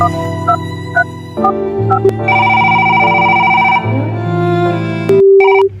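Telephone tones during an outgoing call to an embassy: a loud electronic sequence of beeps and melodic ringing tones, shifting pitches, ending with a steady held tone.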